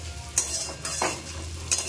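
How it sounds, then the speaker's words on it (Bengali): Potato pieces fry in a pan with a constant sizzle, and a few sharp scrapes mark the stirring strokes, all heard up close. "এখানে আলু ভাজা হচ্ছে।"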